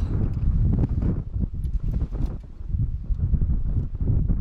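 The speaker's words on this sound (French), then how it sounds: "Un vent, c'est le truc de fou." Strong gusty wind batters the microphone on a mountain hike to the Brèche de Castelas, a loud low rumbling roar that surges and dips without letting up.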